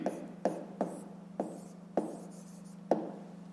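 Pen writing by hand on paper while solving a fifth-grade math exercise, with a series of about seven crisp strokes and taps at uneven intervals, each trailing into soft scratching over a low steady hum.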